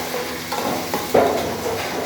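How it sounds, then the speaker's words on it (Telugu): Onions frying in a pan for a goat tripe and tomato curry are stirred, giving a loud continuous sizzle close by with a few scraping strokes and one sharper clatter near the middle, no voices. "ఉల్లిగడ్డలు వేసుకున్న తర్వాత మంచిగా కలుపుకొని ఇట్లా"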